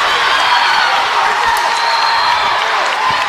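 Basketball crowd at a boys' league title game cheering and applauding after a big play, a loud sustained roar of voices and clapping with occasional whoops.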